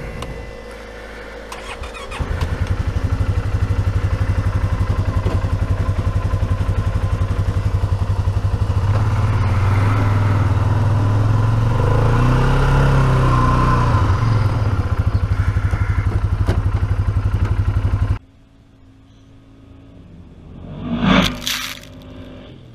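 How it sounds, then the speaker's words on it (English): A four-wheeler ATV engine runs loud and close as it is driven, a rough, steady roar with slight surges, then cuts off abruptly, leaving near silence and a brief rustle. "I'm gonna get on the four-wheeler and go drive it around"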